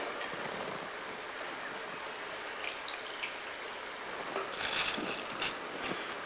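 Water comes to a rolling boil in a pot for tomato rice, giving a soft, steady bubbling hiss with a few brief louder spurts toward the end, quiet overall and with no speech.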